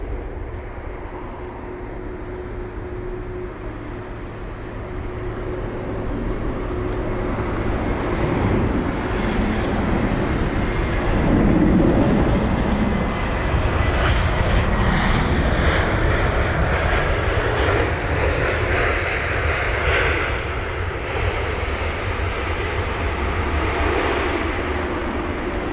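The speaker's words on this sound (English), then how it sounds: "So that's the brand new A321neo" An ITA Airways Airbus A321neo jet lands at London Heathrow with a steady, loud roar that swells and holds for the whole span, broadband and continuous without talk.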